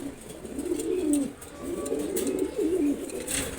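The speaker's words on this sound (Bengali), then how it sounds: "খাকি কবুতর জোড়া খুবই সুন্দর এক জোড়া কবুতর খাকি" A pair of khaki pigeons cooing close by in a cage, repeated low throaty rolling coos in a steady series, with faint background noise and no talk.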